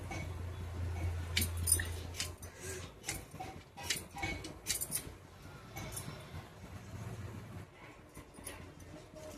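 A knife scrapes the skin off a raw green mango in a bursts of short, scratchy strokes, close and moderately quiet, with brief pauses between passes.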